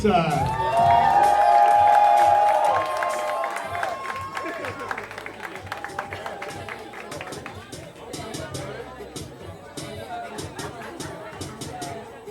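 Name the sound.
audience applauding and cheering athlete's introduction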